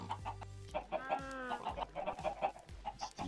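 Chickens in the Minecraft video game cluck in a quick, irregular series of short calls, fairly close and clear, with no talking.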